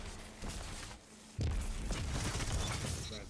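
The pressure cannon heavy weapon fires in Destiny 2 with a heavy boom, followed by a dense burst of blasts and mechanical clatter over busy game background noise, with no voices.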